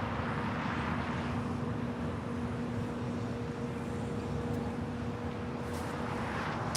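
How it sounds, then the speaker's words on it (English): United Airlines Boeing 757-300 arriving at Los Angeles International Airport, a steady, loud broadband engine roar with a sustained low hum, continuous throughout with no talk. "That is United Airlines flight 1134 coming in from Houston, Texas"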